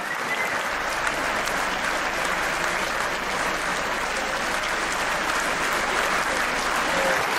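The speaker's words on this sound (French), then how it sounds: "je pense qu'on peut les applaudir." An audience applauding volunteers at a conference evening, a thick, even roar of many hands clapping at once, sustained and fairly loud from start to finish with no talk over it.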